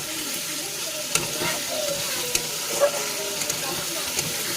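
Chicken curry masala sizzling and frying in hot oil in a pan, a steady close hiss with occasional stirring clicks and small pops throughout.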